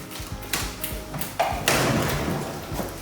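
A damaged door with a ripped hinge swings open in an old house, giving a few scattered taps and thuds, then a louder scraping creak mid-way that tails off into faint knocks.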